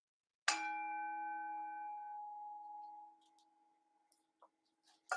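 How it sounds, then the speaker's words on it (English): A singing bowl gong is struck once, sharply and close, then rings with a clear sustained tone that slowly decays over a few seconds, followed by faint small clicks. "I will hit the song bowl,"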